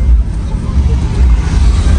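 Car descending from Babusar Top on a cold mountain road, a close, deep engine and tyre rumble that holds steady while people talk over it.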